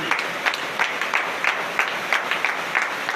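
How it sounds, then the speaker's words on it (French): Congregation applauding at a church service during a night prayer gathering in Benin, a steady dense clapping with periodic louder accents, moderately loud and without talk. "Donnez l'acclamation à notre Seigneur"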